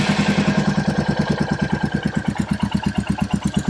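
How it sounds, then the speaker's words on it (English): Royal Enfield Classic 350 single-cylinder motorcycle fitted with a cat-delete exhaust pipe idling close by, a loud, steady, rapid thumping beat with no voices over it. "Let's turn the bike on."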